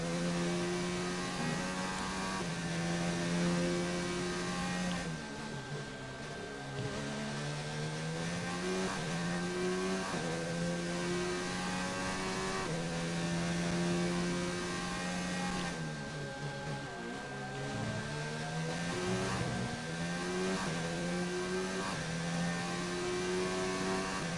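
F2 race car engine in F1 2019 on a lap around Australia, a steady loud whine holding high revs with brief dips for braking and shifts, continuous throughout.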